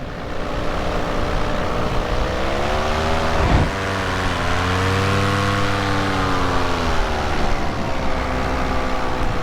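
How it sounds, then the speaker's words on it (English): A Polini Thor 202 paramotor engine runs steadily and loud for the whole stretch, its pitch dipping briefly and then climbing back to a strong drone, with no talking over it. "So yeah, the Polini Thor 202, I mean, can't go wrong with it. It's got plenty of power."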